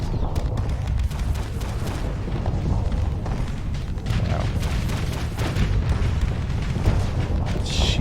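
Mortar fire in the space combat game Starsector with the Nexerelin mod thumps repeatedly as dense, rumbling booms under a constant low roar of battle noise.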